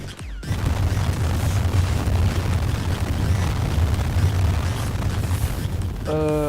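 Particle weapon fire in GTA V on PS3, a continuous loud roaring blast that swells and rumbles for several seconds, ending with a brief electronic tone.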